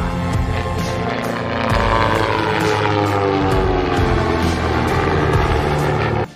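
A steady, loud drone from a Cessna Skymaster push-pull twin-propeller aircraft, with layered engine harmonics, continuous throughout before cutting off abruptly at the end.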